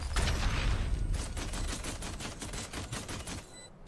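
Rapid gunfire in Valorant during a round after the spike is planted: a steady, fast rattle of evenly spaced shots, loud and close, fading out at the end.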